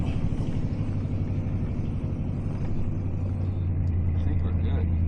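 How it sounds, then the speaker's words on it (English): A truck engine rumbles steadily at low pitch as it pulls a 40-foot shipping container up a hill, loud and continuous throughout, with a person talking over it. "We can give her a little gas to get up this hill."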